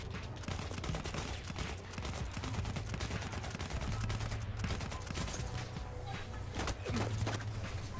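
Rapid machine gun fire from the Battlefield 1 video game runs as a dense, continuous stream of loud shots, with a voice talking faintly underneath.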